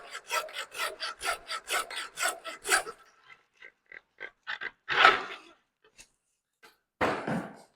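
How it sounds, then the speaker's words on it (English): A handsaw rasps through a deer leg in about nine quick, even back-and-forth strokes, close and fairly loud. A few scattered knocks and scrapes follow, then a final burst of scraping. "So we're just going to go through with the handsaw."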